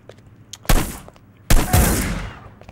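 Two sharp, loud gunshots from Hitman: Blood Money, the second followed by a long booming decay, with a faint rustle between them.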